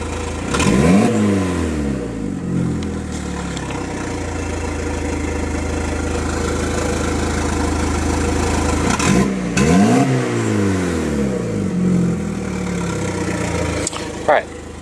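A 2.0-litre engine in an MK4 Jetta fitted with a WOT box revs hard twice, climbing and falling in pitch around a steady held rev in between, loud and close with no speech over it.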